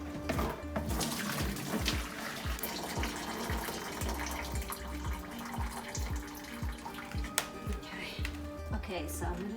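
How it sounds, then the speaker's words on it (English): Cabbage dye liquid pours into a container with a faint, continuous splashing trickle, broken by soft clatters and bumps. "I'm going to pour this into my container."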